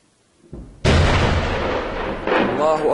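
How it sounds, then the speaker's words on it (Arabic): Heavy artillery shelling strikes the city of Nawa in Daraa, Syria, in 2013: a sudden loud boom followed by a long, rumbling roar that carries on, with a second surge near the end and voices faintly present. "قصف مدفع عنيف على مدينة نواة"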